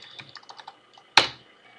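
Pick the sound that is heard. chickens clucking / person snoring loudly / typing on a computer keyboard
typing on a computer keyboard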